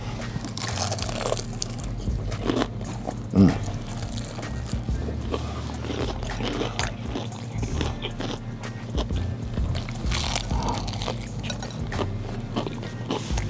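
Someone bites into crunchy buttermilk fried chicken, with a crisp crunch followed by repeated close chewing and crackling of the coating amid soft handling noises and background rustle.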